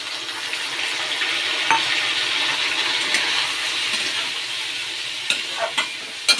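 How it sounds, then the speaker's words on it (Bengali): Potatoes and spices with bay leaf frying in a wok for a vegetarian dish, a steady close sizzle with stirring and a few sharp scrapes and clinks toward the end. "এবার এই আলুগুলো এর মধ্যে দিয়ে দেব।"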